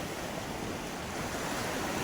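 Sea waves wash steadily onto a Konkan shore where people fish from the beach, a constant, even rush of surf with no voices.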